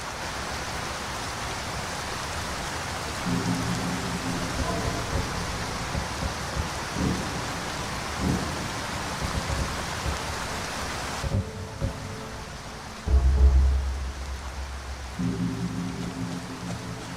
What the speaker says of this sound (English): I need to turn the rain down.